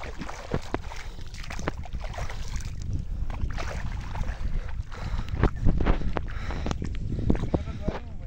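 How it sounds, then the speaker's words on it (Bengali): A boat comes in on a river during rope-net fishing, with water splashing, knocking and rumbling wind noise close to the microphone, and people talking over it. "আমাদের নৌকাটা চলে আসছে"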